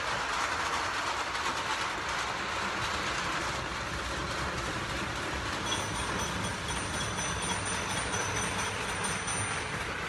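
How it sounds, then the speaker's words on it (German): A model railway locomotive runs steadily on its track as a continuous, even rolling rumble with faint rhythmic clicking. The sound is fairly quiet and broadband, with no talking. "Die Graus-Fandor-Lok fleißig beim Fahren."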